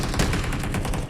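Gunfire in a shooter video game, a shotgun match, bursts as a dense, loud rapid volley of repeated shots lasting about a second, with no talking over it.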